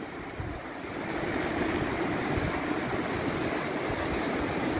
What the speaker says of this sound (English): Skunk Rapids, also known as Onion Patch Rapids, Manigotagan River